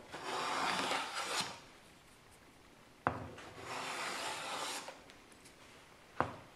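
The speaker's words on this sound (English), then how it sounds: "even if you go nice and slow, just to watch those shavings peel off" A hand plane pulled slowly along a piece of wood, peeling off shavings in long rasping strokes, each ending in a sharp knock as the next pass begins, close and clear with no talking.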